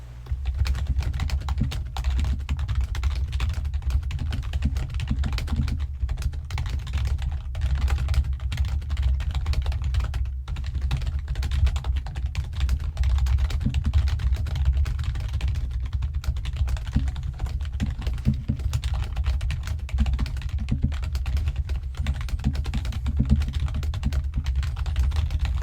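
Fingers type steadily on a computer keyboard, a dense, loud, close clatter of keystrokes that runs unbroken for the whole stretch with no voices.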